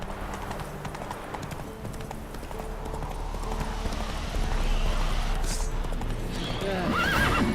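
A horse in a game clip-clopping at a steady walking rhythm, with a neigh or whinny near the end, close and clear, alongside scattered game sounds and a bit of voice.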